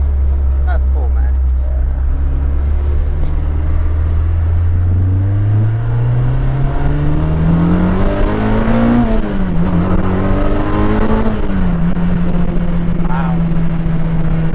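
A 2000 Honda Civic EK fitted with a Grady SP exhaust accelerates hard, the engine note rising steadily through the gears with a brief dip at a shift, loud and close from inside the car.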